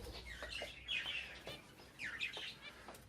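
Pet birds, including bulbuls, chirp in a home coop. Faint, high, repeated calls and tweets come through steady background noise with no talk.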